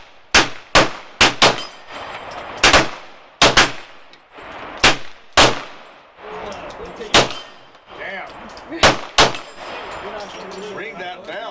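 Beretta 92S pistol firing on a range, around a dozen sharp, loud shots in irregular bursts with ringing steel-target clangs, and people talking between shots.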